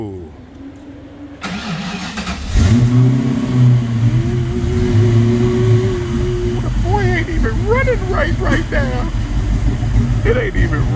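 A car engine cranks and catches on its first start, then runs rough and untimed at a loud, close idle. Several sharp revs of the throttle follow, and people talk over the engine throughout.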